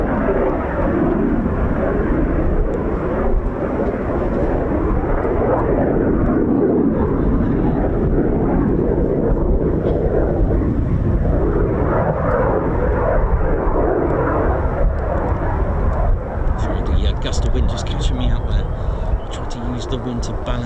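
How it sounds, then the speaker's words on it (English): An RAF Eurofighter Typhoon FGR4 jet making a low approach at RAF Coningsby during evening night flying, a broad sustained engine roar filling the whole stretch, with a voice over it. "Typhoon 10, clear low approach, here we go."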